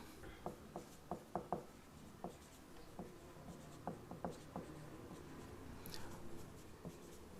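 A pen writes dimensions in centimetres on paper beside a drawing of a T junction in 1.5 brick English bond, with soft, close, scratchy strokes arriving in quick irregular bursts and then pausing.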